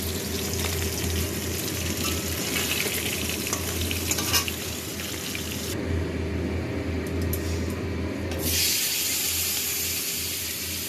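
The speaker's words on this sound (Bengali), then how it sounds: "তেলাপিয়া মাছ ভাজা হচ্ছে" Tilapia fish frying in oil for a tomato and onion curry, a steady broadband sizzle that runs continuously and fairly close, briefly quieter in the upper range midway before returning full.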